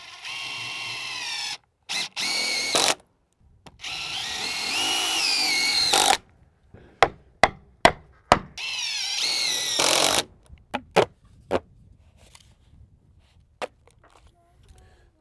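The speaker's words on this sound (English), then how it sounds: "when we put our long lag screws through the sheathing, we don't want it to squash" A power drill drives long lag screws through wall sheathing into a porch post on a barndominium build. Several sustained whirring runs alternate with silences, followed by a string of short, sharp mechanical bursts and clicks.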